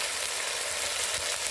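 Spices and turmeric paste fry in a pan with a soft, even hiss of sizzling oil that stays steady through the short moment, quiet and close, with no voices.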